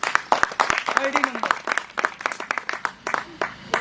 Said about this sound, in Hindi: वाईडी 250 जोरदार ताली